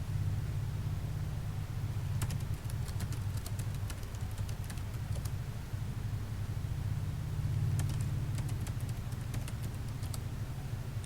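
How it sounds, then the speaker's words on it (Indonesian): Someone types on a computer keyboard in short clustered bursts of clicks, separated by pauses, over a steady low hum. "saya ngetik sebentar"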